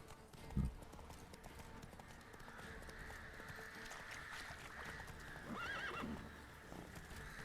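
Geralt's horse Roach in The Witcher 3 galloping with a rapid clip-clop of hooves, a brief snort near the start and a clear whinny later, moderately loud over faint game ambience.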